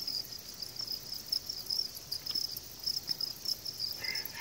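Crickets in a breeding setup chirp steadily in a close, continuous high trill with no voices, the chorus fairly quiet and unbroken throughout.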